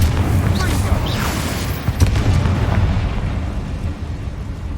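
A Confringo fire spell bursting in the game Hogwarts Legacy, heard as a dense, rumbling blast with crackling debris that fills the moment loudly.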